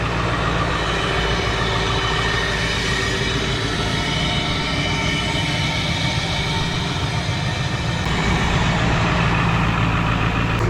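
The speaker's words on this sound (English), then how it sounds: "Truck just went into high idle." A 2001 Ford F-550 XLT heavy-duty work truck with a dump body runs at high idle, giving a steady, loud, continuous engine drone up close. The tone holds level throughout with no talking.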